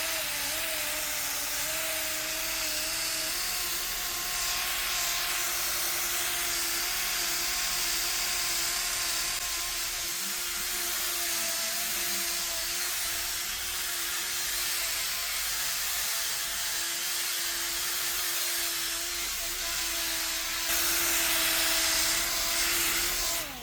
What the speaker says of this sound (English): you can convert your drill with a nice little adapter kit into a little polishing machine